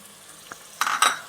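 A spoon scrapes and stirs a semiya kheema mixture in a pan, two or three quick close strokes after a faint tap, with a light sizzle.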